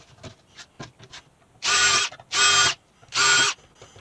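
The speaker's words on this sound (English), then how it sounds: "I'm going to just drill holes in the back" A power drill bores weep holes into the back of a car headlight housing in three loud, even bursts of about half a second each, separated by short quiet gaps with faint handling clicks.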